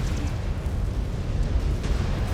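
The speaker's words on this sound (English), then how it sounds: "there's a lot of explosions going on here" Dense, rumbling blasts of explosions in MechWarrior 5: Clans combat, heavy low booms rolling together continuously and loudly with no pause.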